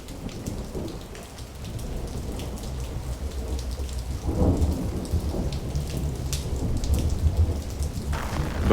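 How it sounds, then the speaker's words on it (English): Steady rain falls on surfaces outdoors, a dense hiss with scattered drops, while low thunder rumbles in the background. "It's raining."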